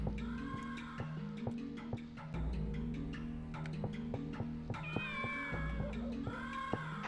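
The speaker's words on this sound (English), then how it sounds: "Let's check on the cat now." Cat in the video game Shenmue meowing several times in clear, close, drawn-out calls over looping game music and tapping sounds.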